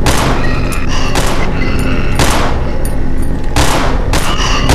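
Rapid bursts of gunfire in the co-op horror game Cry of Fear crackle loudly and continuously, with heavy booming shots and automatic fire layered throughout.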